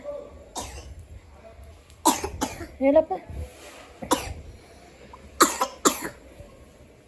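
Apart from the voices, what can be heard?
child coughing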